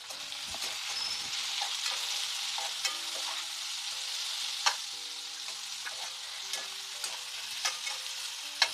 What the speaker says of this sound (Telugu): ఉల్లిపాయలు, పచ్చిమిర్చి, ఉల్లికాడలు కొంచెం ఆగనిద్దాం